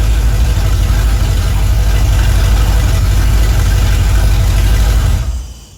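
A 383 Chevrolet V8 runs steadily right after start-up, a loud, close, rumbling idle that holds for about five seconds before quickly fading out.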